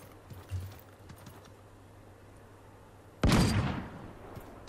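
A single loud sniper rifle shot in Realm Royale cracks out after quieter in-game movement noises, followed by a decaying echoing tail.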